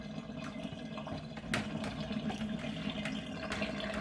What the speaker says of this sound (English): So I'm gonna dump that water out, and I'll go ahead and add this back in.